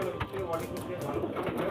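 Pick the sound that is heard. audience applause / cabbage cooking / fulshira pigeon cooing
fulshira pigeon cooing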